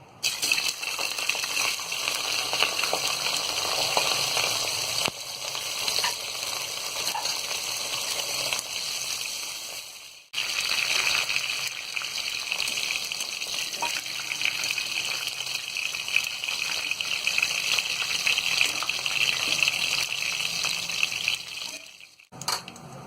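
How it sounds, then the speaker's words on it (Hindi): Cauliflower florets frying in hot oil for a vegetable biryani, a steady loud broadband sizzle running close and continuous, with a brief break midway and a short drop near the end. "अब हम ये गोभी डाल के तलेंगे।"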